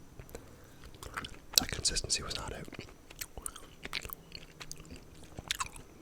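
Gummy bears munched close to the mic, with soft squishy chews and bites in irregular bursts, a few louder crunchy moments, and faint breathy sounds in between.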